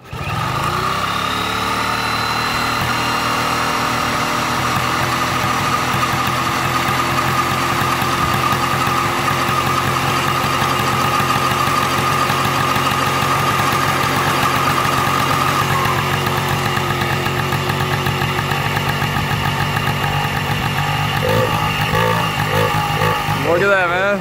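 A Honda PA50 moped engine runs continuously close by, a buzzing, slightly uneven small two-stroke idle that holds steady throughout while people talk over it.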